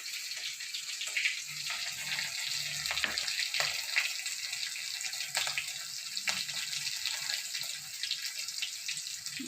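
Tap water runs steadily into a sink while dried fenugreek leaves (kasuri methi) are washed, a continuous splashing rush with small drips and no talk.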